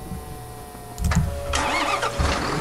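A truck engine in Farming Simulator 2013 cranks and catches, then settles into a mid-pitched idle and revs up, fairly close and loud, with no talk.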